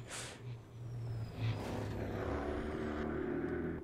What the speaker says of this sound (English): Driving my big blue car.